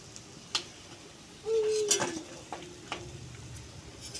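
Chicken pakoras go into a wok of hot oil, bringing scattered clinks of utensil against metal, a brief louder burst of frying, and a low sizzle continuing underneath; the sound is fairly quiet and close.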